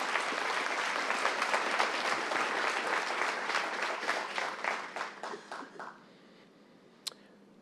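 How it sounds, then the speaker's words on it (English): A single round of applause from the audience at a regular public meeting, steady and fairly full, then thinning out and fading away, with one last stray clap. "And we can give a round of applause"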